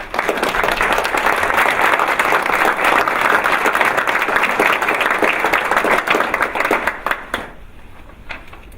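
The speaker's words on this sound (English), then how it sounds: "Please join me in giving the young men of MBK Ferguson-Florissant a round of applause." Audience applause for the young men of MBK Ferguson-Florissant at a My Brother's Keeper induction ceremony, a dense, steady wash of clapping that fills the room and thins out toward the end.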